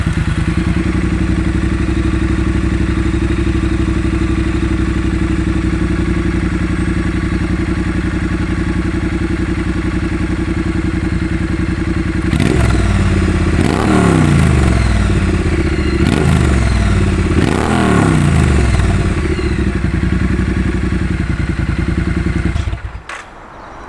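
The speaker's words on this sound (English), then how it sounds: "here's a clip of me revving the bike here up at the garage." Triumph Street Twin motorcycle with slash cut drag pipe exhausts, parked at a garage, idles steadily and loudly up close, then is blipped through several sharp throttle revs that rise and fall before the engine cuts off.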